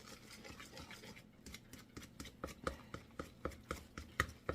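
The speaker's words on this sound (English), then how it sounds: "I'm stirring with the fork, which I think works best" A fork stirring waffle batter of milk and flour in a bowl: quiet, regular taps and scrapes in a steady rhythm that get a little firmer and quicker toward the end.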